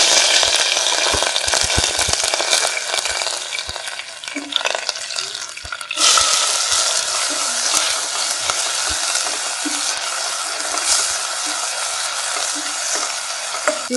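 Mustard seeds, asafoetida and curry leaves crackle and sizzle loudly in hot oil, a dense spitting fry with a fresh burst of sizzling midway as more goes in, plus some stirring scrapes.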